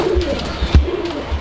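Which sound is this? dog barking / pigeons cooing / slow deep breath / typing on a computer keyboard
pigeons cooing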